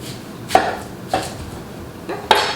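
Three separate knife chops through kohlrabi on a cutting board, sharp close thuds spaced irregularly over a quiet background.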